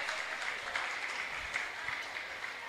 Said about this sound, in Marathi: कृपया सर्वांनी टाळ्या वाजवून सत्कार करावं